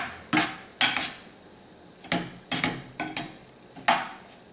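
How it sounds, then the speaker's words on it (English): Spoon scraping and knocking against a pot while brown sugar glaze for candied yams is stirred over medium heat, a series of close, irregular clinks and scrapes. "we'll just go ahead and stir this in here for now"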